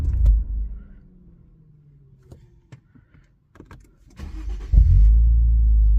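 An Infiniti Q50 with a newly replaced battery is switched off and restarted: the engine idle dies away, quiet clicks and switch sounds follow, then the starter whirs and the engine catches into a loud steady idle.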